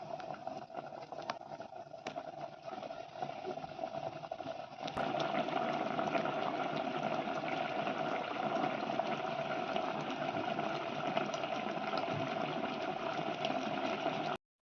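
Cabbage simmers uncovered in an open pan, a steady bubbling of liquid, continuous and fairly close, growing a little louder partway through and holding steady.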